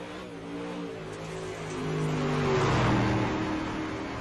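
A dirt race car's engine in the iRacing sim drones steadily with rising and falling throttle, swelling in the middle and holding at a moderate level without speech.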